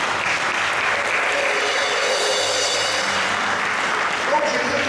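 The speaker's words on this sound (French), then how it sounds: "Est-ce que vous pouvez acclamer le Seigneur?" A church congregation at a seminary and ordination service applauding and cheering for the Lord, a dense, steady wash of clapping that fills the whole stretch at even loudness, with voices mixed in.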